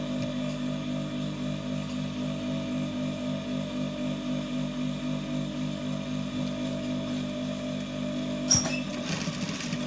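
A sewing machine runs steadily while stitching around a senator top for men, its needle giving a fast, even mechanical rhythm throughout, close and continuous, then a brief clunk and handling noise near the end.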